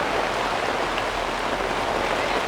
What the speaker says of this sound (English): It is downpouring.